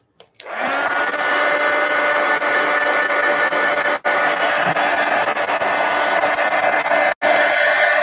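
A hair dryer blows across a mixed media altered book page in a steady, loud, close whir that runs almost the whole time, with two very brief dropouts.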